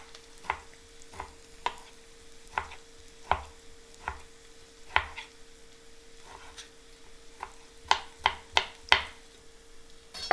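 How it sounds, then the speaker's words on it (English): Knife chopping onions on a board for an egg sandwich, a series of sharp, moderately close knocks in an irregular rhythm, bunching into a quicker cluster near the end, with no talking. "Just chop the onions whatever you want."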